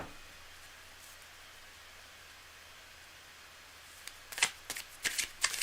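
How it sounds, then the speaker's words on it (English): Tarot cards being shuffled by hand, quiet at first and then a burst of crisp riffling flutters and slaps near the end, several quick bursts in close succession. "Cards are nicely shuffled, and we're going to go completely blind."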